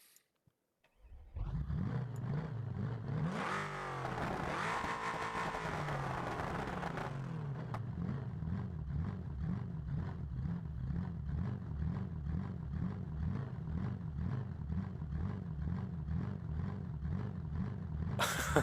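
A 5.3 V8 engine fitted to a muscle truck with race coils and exhaust manifolds, in the BeamNG.drive driving game. It cranks and catches, revs up hard for a few seconds, then settles into a steady, lumpy idle that throbs on alone.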